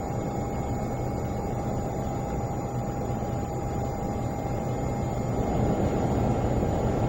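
A Learjet 35A taxis in Microsoft Flight Simulator, its jet engines giving a steady, loud whine with a constant high tone over a broad roar that holds evenly throughout, with no voices.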